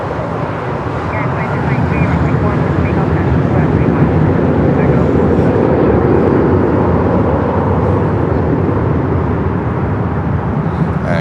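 A United airliner takes off from Newark airport during snowy winter operations, its jet roar loud, broad and steady for the whole stretch, with faint voices underneath.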